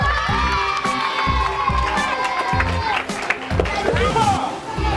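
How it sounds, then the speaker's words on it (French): A school quiz-competition audience in Gabon claps, cheers and shouts loudly for the general-knowledge contestants, children's voices rising over steady applause throughout, with rhythmic clapping and a lively, crowded hall feel. "Et on applaudit pour les candidats culture générale."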